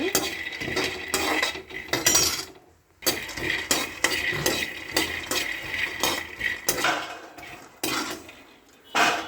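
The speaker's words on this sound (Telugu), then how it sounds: "పల్లీలు ఇలా ఫ్రై చేసుకోవాలి." Peanuts fried and stirred in a pan for peanut chutney, heard as close, repeated scraping and clinking of a spoon against the metal pan in uneven bursts with a faint sizzle beneath and one brief pause.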